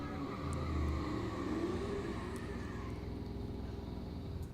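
A drag race car at Mo-Kan Dragway during Rocky Mountain Race Week idling rough with a low, uneven engine rumble, steady and fairly quiet, without voices.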